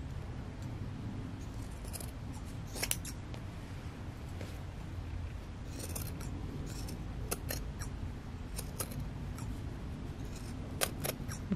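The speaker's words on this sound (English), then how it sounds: "Be careful cutting through your zipper." Scissors snip through fabric beside a zipper on an in-the-hoop embroidered Yeti zipper pouch, sharp close cuts repeating over a steady low machine hum.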